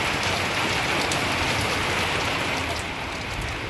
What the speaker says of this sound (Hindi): अचानक से देखिए कितना बारिश होने लगा है।